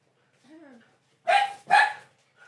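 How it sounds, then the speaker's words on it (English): Male dogs fighting give a faint whine, then two loud, sharp barks in quick succession, close by. "We got a dog in heat, and we have 2 male dogs, and they just were fighting."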